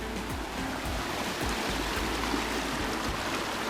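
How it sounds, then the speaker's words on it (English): Small stream of very clear water flowing in the Rocky Mountains near Hummingbird Falls, a steady broadband rush and trickle close by, continuous with no talk. "As you see, there's a little stream of really clear water."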